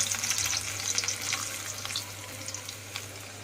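Garlic sizzling in hot oil with cumin seeds, a busy crackling fry with a steady low hum beneath, strongest at first and easing slightly, with no voices.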